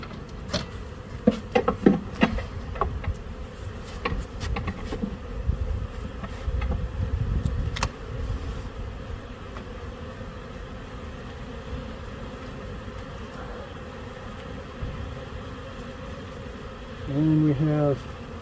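Honey bees hum steadily in an open beehive during a check of honey stores, a dense, close buzzing that continues throughout, with a few scattered knocks and a voice speaking briefly at one point.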